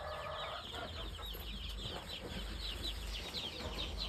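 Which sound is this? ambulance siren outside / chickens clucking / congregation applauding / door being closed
chickens clucking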